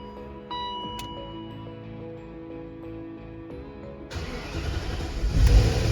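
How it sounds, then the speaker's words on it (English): BMW X5 engine starting after the key is turned and held: a few seconds of steady idle-like hum and ticking, then the starter engages and the engine catches with a sudden louder rumble building to the end. "You turn the key, it starts right up."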